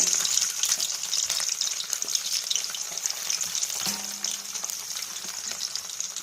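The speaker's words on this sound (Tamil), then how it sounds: "வெந்தயம் கடுகெல்லாம் பொரிஞ்சிட்ருக்கு" Fenugreek and mustard seeds spluttering in hot oil, a dense, bright crackle of frying that fills the whole stretch evenly, close by with a brief scrape partway through.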